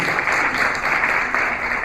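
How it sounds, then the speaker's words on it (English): A seminar audience of teachers claps together in dense, even applause that fills the whole short moment at close range. "Give yourself an amazing lot of applause"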